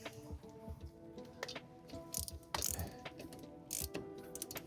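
A ratchet wrench tightens the brake bolts on a 2011 Toyota RAV4, giving soft, close clicking in short irregular bursts with a few sharper metallic knocks and no talk.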